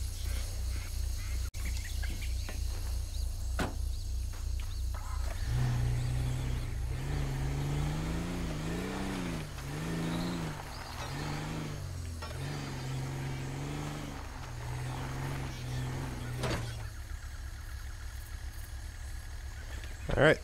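Tow truck engines in GTA 5 respond to a multiple-vehicle crash on Cayo Perico, one of them a Peterbilt, with a low idle rising into revving engine tones that climb and fall over several seconds before settling back.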